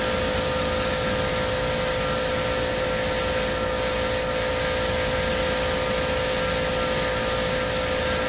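Steady, close hiss of black spray paint being laid onto a Yamaha FZR motorcycle part, running continuously with only two brief breaks, no talk.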